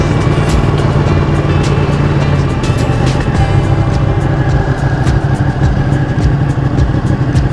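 A 2019 Ducati 959 Corse sport motorcycle with Öhlins suspension runs nearby with a steady, loud engine note, idling and blipping with rough mechanical texture and no talk over it.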